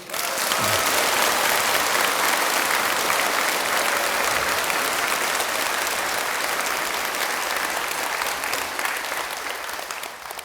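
Sustained audience applause at a Buddhist Ullambana (Ulanbunjeol) ceremony sermon at Hongbeopsa temple in Busan, a dense steady wash of many hands clapping for about ten seconds, loud and even throughout.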